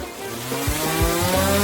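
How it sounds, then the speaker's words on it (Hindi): A hand saw rasps through a large candy in a series of quick, loud, coarse strokes, close up and with no talking. "यह आरी इसमें मेरी मदद करेगा। चलो अब इसे काटती हूँ।"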